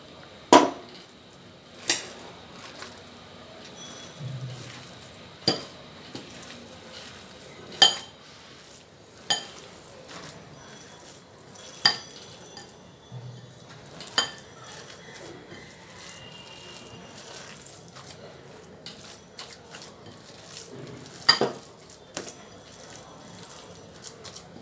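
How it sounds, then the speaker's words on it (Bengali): A fish mixture is worked into cauliflower for cauliflower chops, giving a steady run of sharp clinks and scrapes against the bowl at roughly regular intervals over a quiet background, with no talking. "ফুলকপির সঙ্গে মাছের মিশ্রণটি মেশানো হয়ে গিয়েছে"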